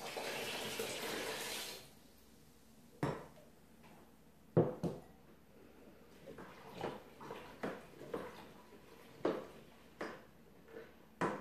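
Cold water gushes from a jug into a batch of homemade sticky toffee pudding wine for a couple of seconds, followed by scattered splashes, knocks and handling clatter, quiet and close with no talk.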